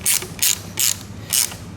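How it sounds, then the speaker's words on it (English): A hand ratchet tightening a part on a short-packed wing, giving four crisp, close clicking bursts at a steady working rhythm. "we use our ratchet again, makes it easy"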